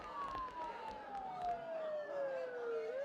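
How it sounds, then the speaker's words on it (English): A siren wails outside, fairly faint and distant, its tone sliding steadily downward as it passes. "Don't those sirens sound really close?"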